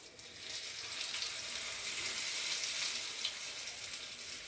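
Brinjal slices fry in oil on a tawa with a steady, close hissing sizzle that holds at an even level throughout.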